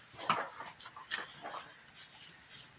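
Dog whimpering in short, faint high whines and yips, several separate cries spread over a few seconds against a quiet background.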